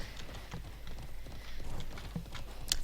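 Horse hooves clip-clop in an online role-playing game, a quick, rhythmic run of hoofbeats at moderate loudness with faint game ambience around them.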